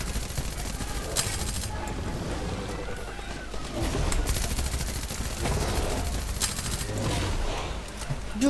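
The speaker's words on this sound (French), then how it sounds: "pistolet automatique frérot, j'ai un Uzi" Rapid bursts of Uzi submachine gun fire in a video game, loud and sustained, with dense crackling shots over a constant noisy backdrop.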